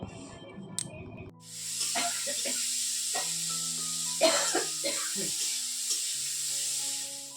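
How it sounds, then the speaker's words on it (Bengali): Vegetables hit a pan of hot oil already tempered with cumin, chili and bay leaf, bursting into a loud, steady sizzle that continues throughout, broken by clattering stirs and scrapes. "সবজিগুলোকে একটু ভাজাভাজি করে তারপর জল দিয়ে দেবো"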